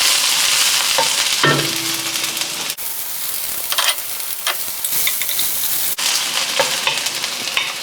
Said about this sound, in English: I sliced up some onions and garlic. So saute them first.